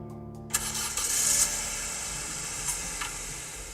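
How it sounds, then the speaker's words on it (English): Car engine starting: a few sharp clicks and a cranking burst, then the motor catches and settles into a steady, fairly quiet idle hum. "So that was a car engine starting"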